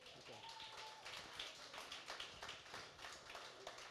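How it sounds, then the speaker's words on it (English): A small audience at a panel for Austin musicians claps faintly and sparsely. The scattered, light handclaps form a brief round of applause in a room. "big round of applause."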